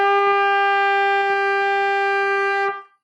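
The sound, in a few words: school band instruments holding a sustained note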